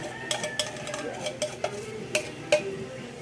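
Sweet potato (kamote) pieces go into a pan for candy-making, giving a string of sharp clinks and scrapes of a utensil against the pan over a faint sizzle, close and fairly loud.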